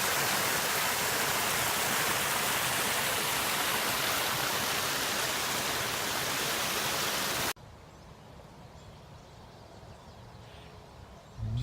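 Creek water rushing through a forest, a loud, steady broadband roar for about seven and a half seconds that drops abruptly to a much quieter background hiss.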